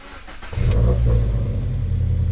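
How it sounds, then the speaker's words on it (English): A race car engine cranks and catches after a brief pause, then settles into a steady, loud, low idle rumble up close. "Start the car real quick."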